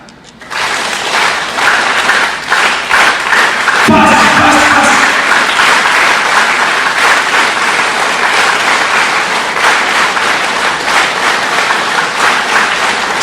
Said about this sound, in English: Clap so well, it really jerks your body from top to top.